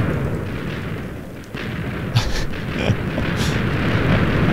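A chain reaction of TNT blocks goes off in Minecraft, a steady, dense rumble of overlapping booms with a few sharper blasts standing out, loud and continuous throughout.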